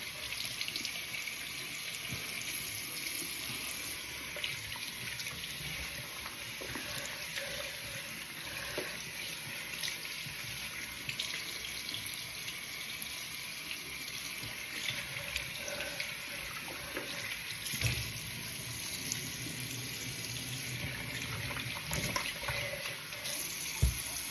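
Tap water runs steadily into a sink while hands are wetted before applying a black charcoal face mask, a soft continuous hiss, faint and close, with no talking.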